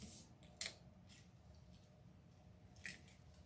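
Scissors snip through white deco mesh on a wreath form, making two quiet, distinct cuts about two seconds apart over a low background hum.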